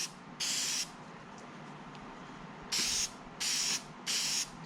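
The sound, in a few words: spraying K&N air filter oil onto an air filter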